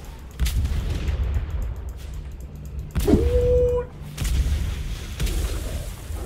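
Cannon fire and explosions from ship battles in the Atlas video game, with a few heavy booms and a sharp blast partway through, rising over a steady low game rumble.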